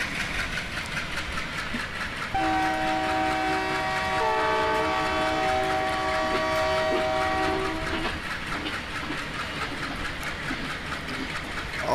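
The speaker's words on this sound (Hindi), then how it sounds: "पूरा ब्लैक स्मोक छोड़ते हुए जा रही है हमारी एल्को लोकोमोटिव" An ALCO diesel locomotive of the Maitree Express shunts near Kolkata, its engine rumbling nearby as a loud sustained horn blast sounds for several seconds in the middle, with faint rail clatter around it.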